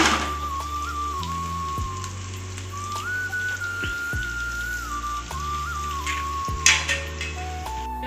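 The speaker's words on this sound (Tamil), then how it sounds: "இப்போ முட்டையை உடச்சி ஊற்றிக்கலாங்க" Beaten eggs poured into a hot pan with spices and leftover idli for egg kaima, a loud steady sizzle close by with stirring scrapes, a thin whistling tone and low mechanical hum underneath.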